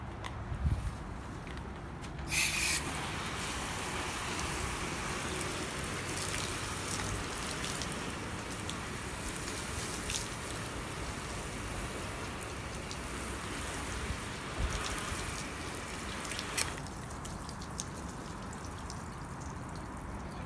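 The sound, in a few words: water hose rinsing car wash soap off paint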